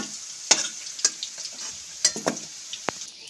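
Jackfruit pieces frying in hot oil, a soft steady sizzle under a few sharp metallic clinks and scrapes of a utensil lifting the pieces out, close and fairly quiet.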